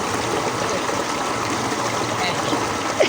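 Cold water flows steadily in a Pakistani village, a continuous rushing stream close to the listener that holds an even level for the whole stretch, with faint background sounds.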